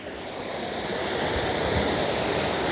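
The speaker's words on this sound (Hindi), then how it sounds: "ये पानी का बहाव चेक करें कितना तेज़ है इस वक्त" Fast-flowing river water rushing along a swollen nullah, a steady broad roar of turbulent water that holds evenly throughout, close and continuous with no voices.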